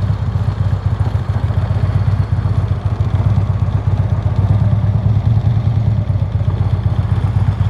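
A Harley-Davidson Road Glide motorcycle makes a slow U-turn on the clutch only with no throttle, its engine a steady, low idling rumble close by, unbroken for the whole stretch with no voices.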